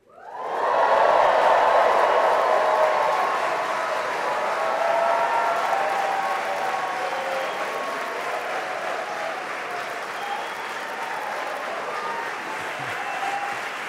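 A large audience at a talk breaks into loud, sustained applause and cheering with whoops mixed in, then eases to a steady clapping that carries on to the end.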